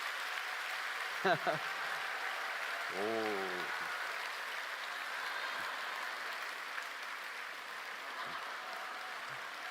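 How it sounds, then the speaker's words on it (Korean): Clapping from a church congregation at a Friday night worship service, a soft, even patter of many hands, with brief voices and a vocal exclamation breaking in over it early on. "박수하겠습니다."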